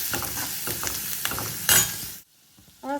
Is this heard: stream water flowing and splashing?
no